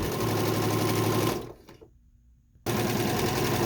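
A sewing machine stitching down a fabric sash runs with a loud, rapid, steady mechanical chatter, stops for about a second, then starts again at the same pace, with no talking.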